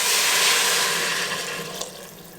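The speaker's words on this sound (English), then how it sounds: "my vegetables are starting to stick in here, so I'm going to add some water." Water pours steadily into an Instant Pot of sticking vegetables cooked with ground roasted cumin, a continuous close splashing hiss that eases slightly toward the end with one small clunk.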